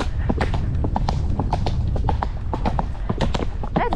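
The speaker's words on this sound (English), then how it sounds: "That's a nice canter." A large horse canters through the woods, its hooves striking in a quick, rolling three-beat rhythm, close and steady, with faint breathing and rustling underneath.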